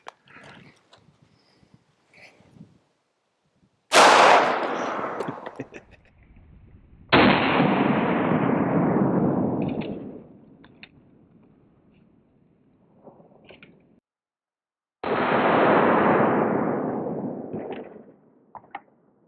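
Three loud gunshots hit a budget Level IIIA ballistic helmet, a TacticalXmen Ratel FDK22, several seconds apart; each is a sharp blast that booms and fades slowly, with faint small noises between.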